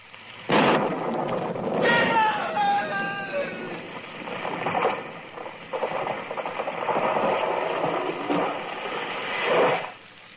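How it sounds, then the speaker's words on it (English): Staged radio-drama lightning crack bursts out suddenly and gives way to long rolling thunder in a Western setting, loud and close, rumbling and swelling in waves for several seconds before cutting off. "It was lightning. It struck the tree."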